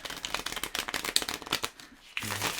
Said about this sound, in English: let's give these a big shuffle, actually, because I haven't done that yet